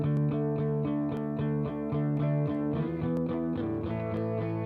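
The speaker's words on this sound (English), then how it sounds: "cut the reverb time down more and make it more of a small room" Music mix treated with a short small-room reverb, dense tonal instruments playing rhythmic chords with a tight ambient tail, steady and moderately loud with no voices.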